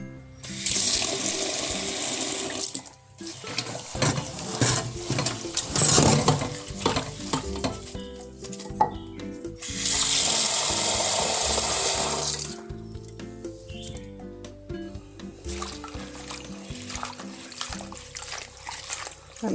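Spinach leaves are washed under a running kitchen tap, water gushing and splashing in two long loud bursts with sloshing and rustling of the leaves between them, and no talking.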